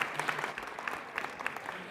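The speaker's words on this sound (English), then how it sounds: "Our Athena Award organizational finalists, one more round of applause." An audience at a chamber of commerce awards event gives a round of applause for the organizational finalists, steady crowd clapping that stays moderately distant and even for the whole stretch.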